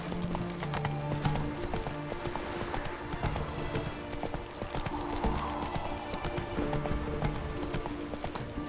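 Horse galloping in The Witcher 3 video game, steady rhythmic hoofbeats clopping close by over a busy game soundscape, with a faint snort, no talk.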